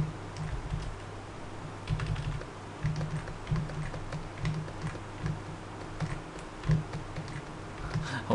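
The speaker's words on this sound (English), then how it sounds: "Hopefully my keyboard clicks won't be too annoying." Computer keyboard keys clicking steadily during typing at a desk while a digital painting is worked on, a quick irregular patter of light clicks close to the mic with a low hum underneath.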